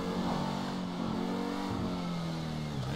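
A car engine in GTA V Online revs with a steady mid-pitched drone that climbs slightly, then dips near the end, loud and continuous with no talk.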